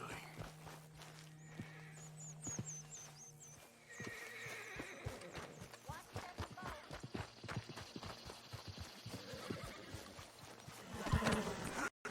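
Horse hooves clip-clop at a steady walking pace in the video game Red Dead Redemption 2, close by, with a horse whinnying near the start and quiet background ambience.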